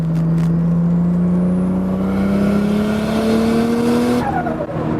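A turbocharged Lexus SC300 engine revs hard in third gear and climbs steadily in pitch, loud and close, then cuts off sharply near the end with a quick drop in tone.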